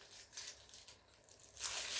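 Scissors slice through crinkly plastic film in a few short rasping strokes, close up, ending with a longer crisp cut.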